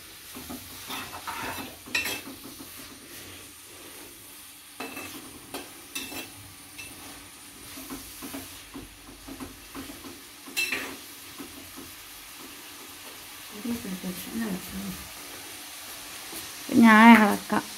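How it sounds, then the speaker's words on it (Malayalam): Fish curry masala stirred and sautéed in a pan, with soft scraping strokes and a low sizzle at moderate level, growing louder near the end; a voice speaks faintly at times. "ശരിക്കും ഇളക്കി ഇളക്കി വഴറ്റിയെടുക്കണം"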